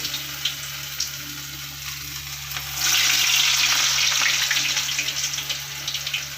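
Urad dal vadas fry in hot oil with a steady loud sizzle that swells partway through as more batter goes in, crackling close by with no talk.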